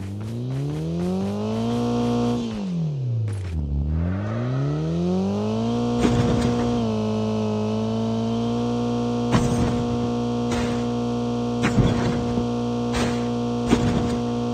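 A vehicle engine in Call of Duty drones steadily close by, its pitch dipping low and then climbing back as it revs again, with sharp crackling bursts over the hum every few seconds.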